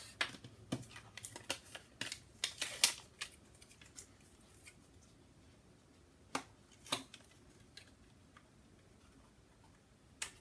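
Scissors trim foiled acetate for a treat box, giving sharp, faint snips and crisp clicks, clustered in the first few seconds and then scattered, close up in a quiet room.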